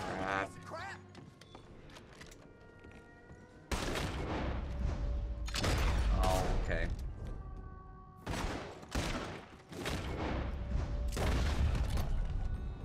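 Shotgun fire in the Red Dead Redemption 2 video game, several loud booming blasts with dense bursts of gunfire and mechanical clatter spread across the stretch, with someone speaking between shots.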